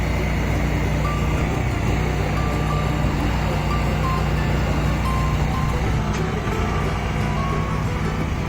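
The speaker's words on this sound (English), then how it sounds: "With a hydraulic lift trailer, they were able to place the shed directly on the shed pad." A truck with a hydraulic lift trailer places a shed, its diesel engine rumbling steadily close by while a reversing beeper chirps intermittently over the drone.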